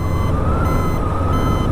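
A truck's reversing safety alarm sounds a steady high beep over a loud, constant low engine rumble of nearby traffic, heard from a 1978 Honda CB550F motorcycle ride.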